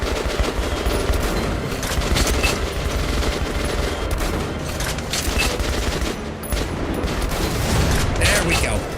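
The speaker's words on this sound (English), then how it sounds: "Give me the anti-tank rifle." Heavy gunfire rattles through a firefight in a Metro video game, with an anti-tank rifle among the weapons. Dense, loud repeated shots and bursts fire nearly nonstop, and someone talks over the din.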